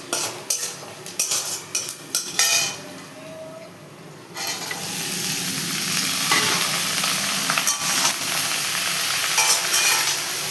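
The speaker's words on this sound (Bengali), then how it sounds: "শুকনো লঙ্কা ফোড়ন দিয়ে চিচিঙ্গাটা ভাজা করছি।" Snake gourd frying in a pan with onion, nigella seeds and dried red chilli: a few clinks of stirring and scraping at first, then a loud, steady sizzle carrying on close by with utensil knocks, no talking.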